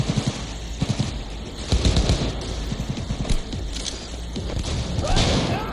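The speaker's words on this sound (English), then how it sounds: "somebody's shooting at me" Rapid bursts of gunfire in the video game Cyberpunk 2077, dense automatic volleys with heavy thumps and booms, loud and continuous over a game soundtrack, with no talk.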